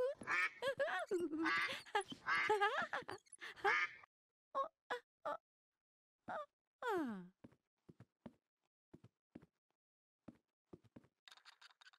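A voice speaks, then a series of short squeaky quacks from a plastic toy duck pulled on a string sound one after another, scattered with pauses between them.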